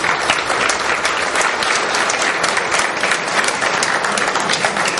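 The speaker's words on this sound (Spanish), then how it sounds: "le recibimos con un aplauso" A church congregation applauds, with a dense crackle of many people clapping together, loud and steady for several seconds with no voices heard above it.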